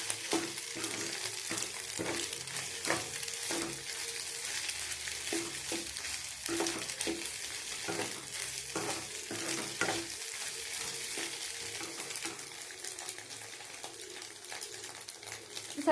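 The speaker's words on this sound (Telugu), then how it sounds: "మిక్స్ చేసుకుందామండి." Egg rice mixture frying in a pan and being stirred, with a steady sizzle and scraping strokes of a spoon throughout, close and unbroken by speech.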